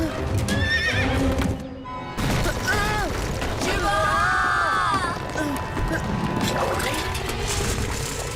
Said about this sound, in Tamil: குதிரையோட சத்தம் இந்த இடத்துல இருந்து தான் வருது.